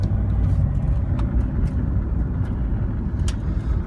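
Lifted Jeep Cherokee XJ with a 3-inch lift and 265 tires, its engine running in a steady, loud low rumble throughout, no voices.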